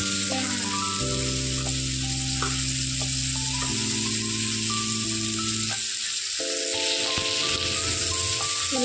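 Fish frying in a pan, a steady loud sizzle and hiss of hot oil running without pause, with a few tonal background sounds above it and no talk.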